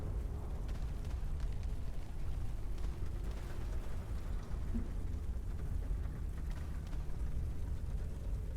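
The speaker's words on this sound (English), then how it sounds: "You hear the rumbling from the heavy tanks, gunfire, and cannon fire, and the loud crash of concrete walls crumbling." A continuous, heavy low rumble of tanks and battle in the video game Path to Nowhere, with a dense, steady roar and no separate shots or crashes standing out.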